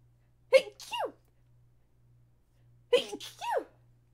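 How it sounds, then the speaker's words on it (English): Two separate sneezes from a person, each a sharp burst followed by a longer exhale, close and fairly quiet with a faint steady hum beneath. "Also, I really need to sneeze right now."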